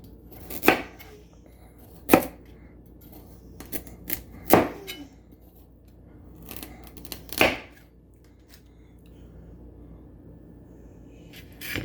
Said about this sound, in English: I'm going to cut these in about 1/2 inch chunks.